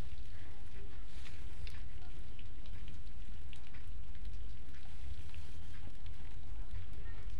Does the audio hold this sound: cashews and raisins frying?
yes